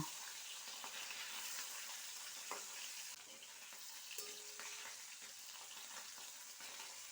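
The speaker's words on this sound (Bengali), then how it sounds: "মাছগুলো এক পিঠ ভাজা হয়ে গেছে এবার আমি উল্টে অপর পিঠটা ভাজা করে নেব" Bata fish sizzles steadily in hot oil, a dense continuous crackle with a few faint clinks and bumps, and no talking.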